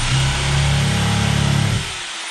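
A power drill runs steadily at close range for nearly two seconds, a loud buzzing whine that then winds down and stops, during electrical prep work on an off-grid tiny house cabin build.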